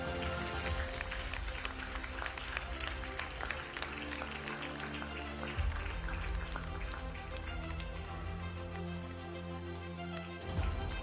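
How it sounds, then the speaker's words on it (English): Steady audience applause at the UMS Certification Ceremony 2025, continuous dense clapping from a crowd with a sustained musical tone underneath and brief breaks. "I'd like to hear that applause coming in a little bit more louder."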